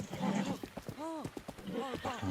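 A horse's hooves clip-clop in Zelda: Breath of the Wild, close and rhythmic, while someone talks over them and a whinny-like call rises briefly in the middle.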